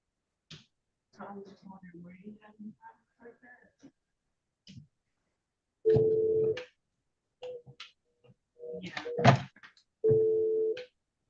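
A courtroom desk telephone used to dial out, with people talking over clicks of the handset and keypad, a short steady tone and quick button taps in between.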